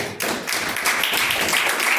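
A church congregation claps loudly and steadily in dense, continuous applause during a live worship service.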